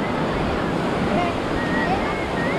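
Fudo Nanae waterfall, the seventh tier, pours with a steady broadband roar of rushing water, loud and continuous with light wind buffeting on the microphone.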